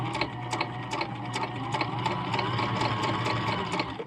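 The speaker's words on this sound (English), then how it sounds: "I'm going to be stitching in the reduction gearing mode" A restored Husqvarna Viking 6440 sewing machine stitches in reduction gearing mode, with a steady, close mechanical whir and a regular ticking needle rhythm throughout.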